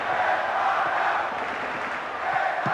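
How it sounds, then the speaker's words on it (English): A steady, dense roar from a large stadium crowd fills a match in the PC football game PES 2009, Spain vs Greece, sustained and loud without breaks. "There's a great sense of expectation inside this vast stadium. The crowd close to the pitch makes for a good atmosphere."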